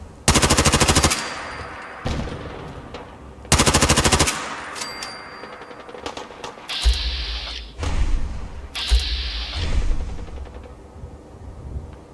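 Super mutants fire pipe rifles in the Fallout 4 video game, loud bursts of rapid automatic gunfire in several rounds, with sporadic single shots, thuds and clatter between volleys.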